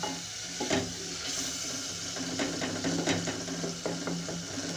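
Spiced masala and softened tomatoes fry in oil for aloo methi, giving a steady close sizzle with scattered crackles and stirring sounds throughout, no talking.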